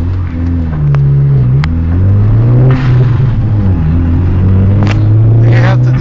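Car engine revving close by, a steady low rumble that rises and falls in pitch through several swells, with a few faint higher clicks and noises over it.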